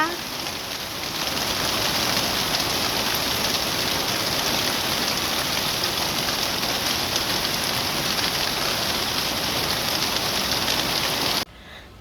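Heavy rain falls outdoors in a steady, dense patter across the surfaces around, loud and unbroken for most of the stretch before cutting off abruptly near the end.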